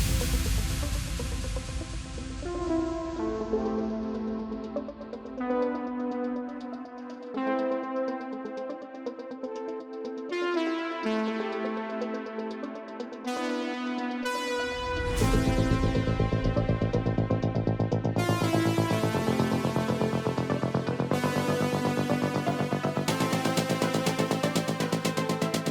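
A progressive melodic house build-up layers synth chords and arpeggiated notes that shift every few bars, with a filtered sweep opening up before a fuller bass-heavy section enters about halfway through and carries on to the end.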